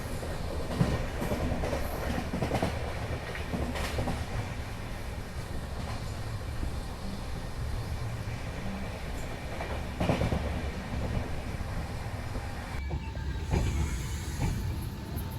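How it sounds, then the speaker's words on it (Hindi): The Amritsar Bikaner Express pulls into Fazilka Junction with a continuous rumble, clickety-clack of wheels over rail joints and hissing, steady and fairly loud throughout, heard from on board without voices. "अभी फ़िलहाल ट्रेन का अराइवल हो रहा है फाजिल्का जंक्शन पर"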